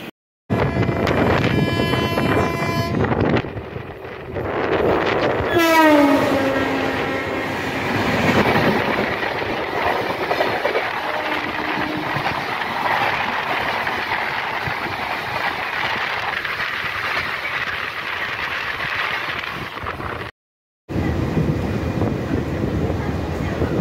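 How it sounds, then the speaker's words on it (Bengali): Train 12809, the Howrah Mail from Mumbai CSMT, passes platform 4 at Bagnan station. Its horn sounds loud with a falling pitch, then a long rushing roar of coaches and wheel clatter follows, with wind buffeting the microphone. "এখন আমাদের সাথে দেখা হবে ট্রেন নাম্বার 12809 মুম্বাই CSMT থেকে হাওড়ার পথে হাওড়া মেলের সাথে।"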